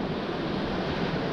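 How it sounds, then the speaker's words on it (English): Sea waves wash steadily onto a beach along the Bristol Channel, a continuous close roar of surf mixed with some wind buffeting, with no talk. "The thing is, the sea's going to calm right down."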